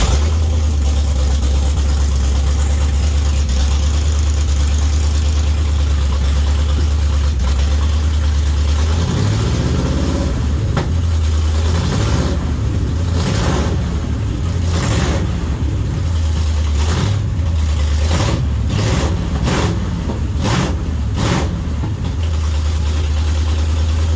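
A 400 cubic-inch big block Mopar V8 with four-speed sits idling in a 1964 Dodge Polara 500, a loud steady low rumble with a lumpy, uneven beat and a few short throttle blips midway before settling back to idle.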